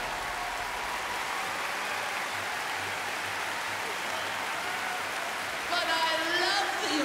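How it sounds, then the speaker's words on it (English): Applause from an audience at a Doctor Who Proms concert, a steady, dense wash of clapping from many hands that holds throughout and swells slightly near the end. "But I love the applause"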